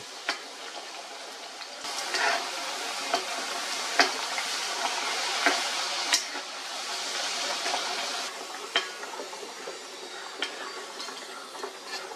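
Vegetable sticks, cut to look like fries but not potato, sizzling steadily in hot oil, with occasional clinks and stirring scrapes of a utensil against the pan.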